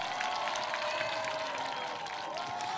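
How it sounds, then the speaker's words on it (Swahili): A crowd applauds at an outdoor public event in Garissa, steady sustained clapping from many hands filling the whole stretch at moderate distance, with no talk over it. "Wapi makofi jamani?"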